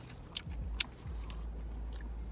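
Bites and chewing on a crunchy Swedish chocolate bar with hard caramel, a few close, sharp crunches near the start followed by steady mouth sounds, no talking.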